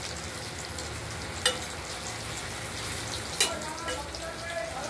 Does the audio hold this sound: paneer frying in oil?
yes